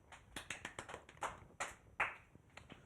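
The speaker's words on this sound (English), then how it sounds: "Crew, I would like you to clap for FM's pumpkin." A studio crew claps for a carved pumpkin at a student television event, giving about ten quick, uneven bursts of hand claps over roughly three seconds. The clapping is close and moderately loud, with no talk over it.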